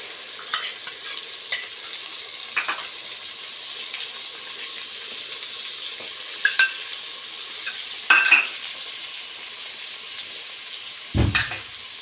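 Whole stuffed green chillies, fried and then stirred into a tomato-onion gravy, give a steady soft sizzle. Occasional spoon scrapes and clinks break through, and nobody talks.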